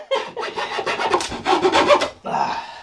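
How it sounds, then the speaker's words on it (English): A hand saw cuts through scrap wood for a homemade guitar with a quick series of rough rasping strokes, close and loud, ending in a brief pause and one final stroke. "there's some precision sawing right there"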